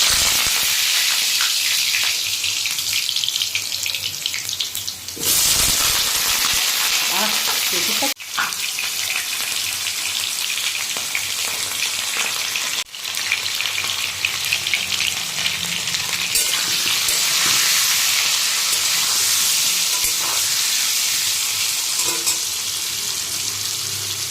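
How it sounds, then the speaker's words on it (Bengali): Potatoes fry in hot mustard oil in a wok, giving a loud, continuous sizzle with bursts of spattering as they are stirred and turned, close up and with no voices. "কড়াইতে সর্ষের তেল দিয়ে দিয়েছি এখন আলুগুলো ভেজে নেব"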